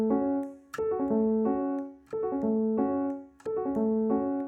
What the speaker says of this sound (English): The guitar is playing the chord progression with a downwards arpeggio of 16th triplets that sounds like this.